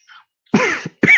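A single close cough, harsh and throaty like a throat clear, followed by a second short burst, loud against silence.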